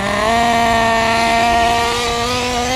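A Kyosho Inferno NEO 3.0 nitro RC buggy engine idles steadily with a high, buzzing whine, loud and close, running alone without talk.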